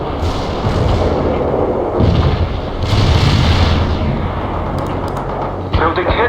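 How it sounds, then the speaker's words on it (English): Mortar barrage and artillery fire in the World in Conflict video game produce repeated heavy, rumbling booms over a continuous battlefield roar, with sharper impacts near the start and toward the end. "Coordinates hit by our mortar barrage."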